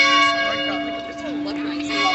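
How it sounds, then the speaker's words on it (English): Church bell ringing on the University of Georgia campus, a sustained metallic resonant toll hanging steadily over outdoor crowd murmur and some faint voices. "That bell's just a going."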